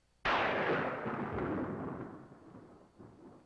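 A single sharp thunderclap during a storm breaks out suddenly and rolls into a long rumble that fades over several seconds, loud and alone with no talk.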